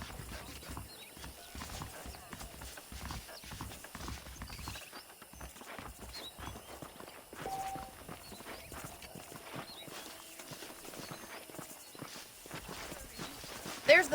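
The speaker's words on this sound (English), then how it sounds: "The horses are saddled up over here." Horses walking in Red Dead Redemption, soft repeated hoof clops in a loose rhythm under a low game ambience, moderately faint, with a spoken voice heard over them at times.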